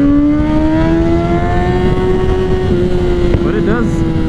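A Kawasaki Ninja 400 motorcycle engine hums at a steady, slowly climbing rev, loud and close, with a brief rasp near the end.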